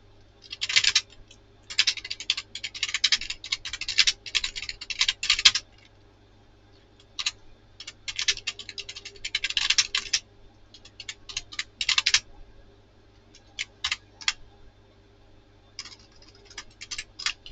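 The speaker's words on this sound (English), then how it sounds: "My new keyboard, I type so slow. I make so many mistakes." Clicky typing on a new computer keyboard, close and crisp, in uneven bursts of rapid keystrokes separated by short pauses over a faint steady background hum.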